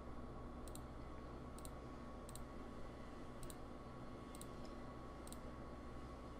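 A computer mouse clicks six times at a slow, uneven pace, each click crisp and faint over a steady background hum, with no one talking.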